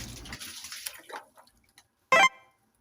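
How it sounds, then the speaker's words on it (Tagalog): Water splashes and trickles over a dog being rinsed during a bath, with irregular close drips and pours, ending in a short louder splash burst. "kinakailangan balawan ko siya"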